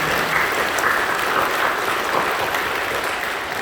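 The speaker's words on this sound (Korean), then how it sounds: "박수로 영광해 주십시오" A church congregation applauds during an Easter Sunday service at Incheon Full Gospel Church, the clapping steady and dense throughout, with a slight drop near the end.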